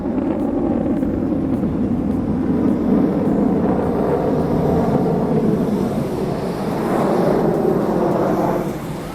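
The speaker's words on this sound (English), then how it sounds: "Such an eye-pleasing thing to watch a jet doing stunts, that too, so smoothly and elegantly." Jet aircraft performing aerial stunts, a loud, continuous roaring rush that swells and eases as it passes, with broad wind-like noise and no voices.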